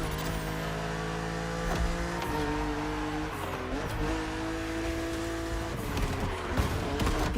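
Engine and tires of a BMW Z roadster in the racing game The Crew Motorfest, a steady sustained drone with shifting pitch and occasional tire squeal, loud and continuous with no talk.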